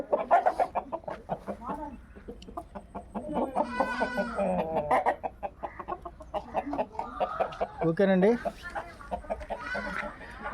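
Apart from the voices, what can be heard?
fighting roosters clucking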